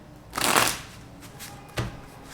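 Tarot cards are shuffled in two quick riffles, a loud half-second riffle followed by a shorter crisp snap, close and clear against a quiet room.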